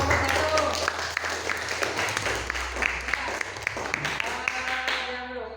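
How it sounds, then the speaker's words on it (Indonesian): Students in a classroom clap for group 1 after a poetry reading, a modest, fairly quiet patter of applause with distinct individual claps and some voices mixed in. "Ya, tepuk tangan untuk kelompok 1."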